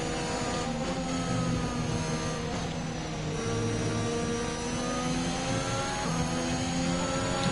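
Formula 1 racing car engine in the F1 2021 video game at the British circuit, droning and revving steadily at high pitch, with harmonic sweeps rising and falling as the car shifts and accelerates, loud and continuous with no talk.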